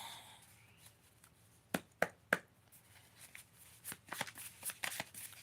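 A tarot card deck is cut and handled by hand, giving several crisp card slaps and soft riffling shuffles close by, with quiet rustling in between.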